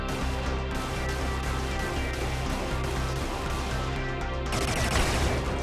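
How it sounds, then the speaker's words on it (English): An orbital defense cannon explodes in the Brigador video game, part of a loud, continuous rumble of blasts and gunfire. A fresh burst comes near the end, and there is no talking. "Okay, that explodes a little bit bigger."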